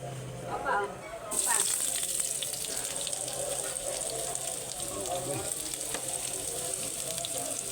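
Something sautéing in a pan starts with a sudden loud hiss and crackle after a second, then keeps up a steady sizzle with faint stirring and clinks throughout.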